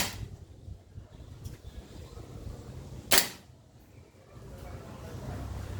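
An E&C Infinity Hi-Capa airsoft pistol fires one sharp, loud crack that stands out from a low background hum and murmur.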